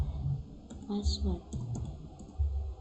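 Command-line typing on a computer keyboard, several close, quick key clicks in uneven bursts, with a person speaking over the keystrokes throughout.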